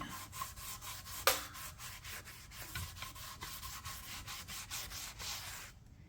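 Cloth wiping down the metal body of an antique one-gallon kerosene can, a steady, close rubbing and scrubbing in repeated strokes, with one sharp knock partway through.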